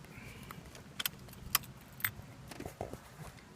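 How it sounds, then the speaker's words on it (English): A key slides into the ignition of a BMW R1200RTP motorcycle, with a faint jingle of the keyring and several small metallic clicks spaced apart, close but quiet. "So, key going in the ignition."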